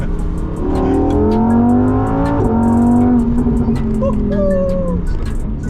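A Lamborghini Huracan V10 pulls hard through the gears, its loud engine note climbing in pitch, dropping at a shift and climbing again, heard close from inside the car.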